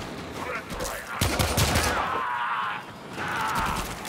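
Pistol fire in the Warframe video game, a burst of sharp, fast gunshots in the middle of the clip between quieter stretches of game ambience.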